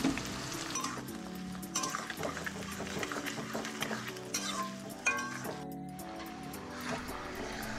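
Marinated chicken with fried onions sizzles in a pan over high heat while being stirred, with clinks and scrapes of a utensil against the pot over a steady frying hiss, heard up close.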